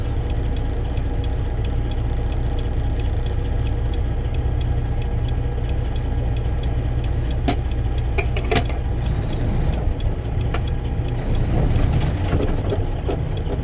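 A grain truck hauling soybeans to an elevator in Rock Rapids idles steadily, its low engine rumble constant and close throughout, with a few faint clicks and knocks over the top.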